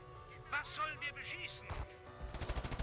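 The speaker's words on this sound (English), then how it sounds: "MG42 light machine gun. Oh, look at that range! Very long range." An MG42 light machine gun firing in a video game: a short, rapid, evenly spaced burst of shots near the end, following a stretch of game sounds.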